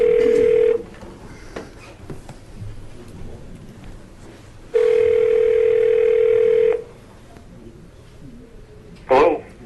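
A telephone dial tone sounds during a phone call to assembly members at a borough meeting, a steady tone playing about a second, then again for roughly two seconds, then a brief burst, over faint room noise.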